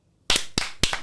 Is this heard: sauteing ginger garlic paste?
no